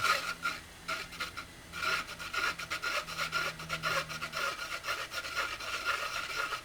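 A rhythmic scraping and rubbing of a fishing-lure spinner blade grinding against its metal back plate, one side hitting, repeating in quick uneven bursts for several seconds, close and moderately loud.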